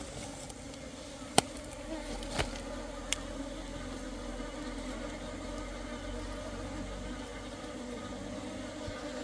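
Asian honeybees fly into an apiary, their soft continuous buzzing humming steadily close by, with a few brief clicks and knocks over a low background drone and no talk.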